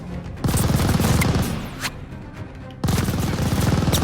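Enemy machine gun in Call of Duty Vanguard fires in two loud sustained bursts of rapid shots, separated by a quieter stretch with scattered distant pops.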